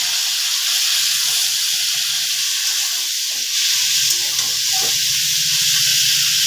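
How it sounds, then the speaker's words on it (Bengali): Vegetables are tossed into a hot pan of frying onion, producing a loud, continuous close sizzle and hiss with a low bubbling rumble, and no voices. "পেঁয়াজটাকে অল্প সময় ভেজে নিয়েছি, এখন সবজিটাকে দিয়ে দিচ্ছি।"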